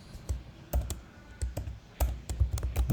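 Computer keyboard typing Python code, with irregular bursts of sharp key clicks and clacks in quick clusters, fairly close and moderately loud, with no talking over it.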